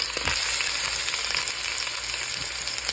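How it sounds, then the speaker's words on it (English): Beef ribs sear in about a tablespoon of oil on a stove, giving a steady, close, crackling sizzle throughout with no talking. "Let's go ahead on and put the ribs in there"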